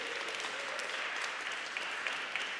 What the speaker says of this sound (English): Applause for the dads.